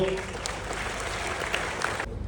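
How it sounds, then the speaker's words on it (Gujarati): An audience at an award function breaks into steady, dense clapping that holds evenly for about two seconds and then cuts off abruptly. "ફરી એકવાર જોરદાર તાળીઓ."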